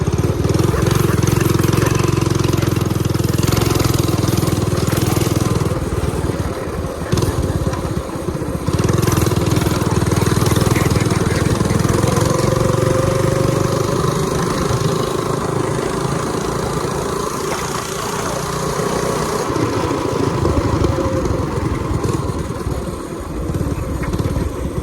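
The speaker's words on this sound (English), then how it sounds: "All right, we're gonna take it for a little spin." A homemade minibike engine runs continuously through a short ride, a steady close-up drone with slight rises and dips in pitch as the throttle changes, and a voice occasionally over it.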